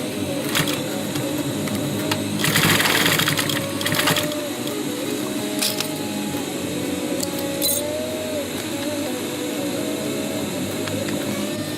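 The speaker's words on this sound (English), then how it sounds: "now sew over it to secure it in place and give it a few stitches to secure it more" A sewing machine stitches a surgical mask with a steady mechanical whir, broken by a few louder clicks and knocks.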